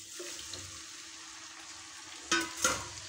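Pumpkin leaf tips sizzle steadily in hot oil with mustard seeds in a pan. A soft, even hiss runs throughout, broken near the end by two short, louder clatters of stirring.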